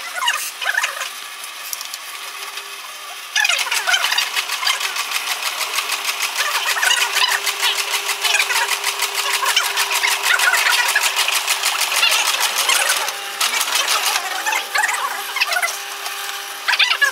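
A tatami-making machine runs steadily in a workshop, giving a dense, fast mechanical clatter with a rapid repetitive stitching rhythm that rises after a quieter start and carries on loud and close throughout.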